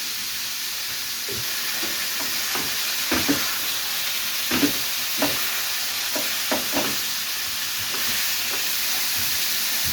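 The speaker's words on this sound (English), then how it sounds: "Now, this is really sizzling." Steady broadband sizzle of chicken frying in a hot pan, with occasional louder crackles and pops, close and continuous, no voices.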